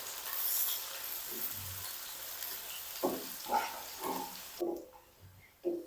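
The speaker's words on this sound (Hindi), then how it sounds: "प्याज को ब्राउन होने तक फ्राई करेंगे।" Sliced onions, two medium ones, fry in a pan toward browning: a steady broadband sizzle runs throughout, with intermittent louder stirring scrapes in the second half.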